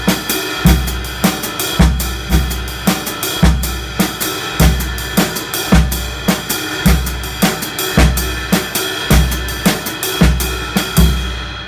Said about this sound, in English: So now the snare drum part falls on the 3rd note of every triplet.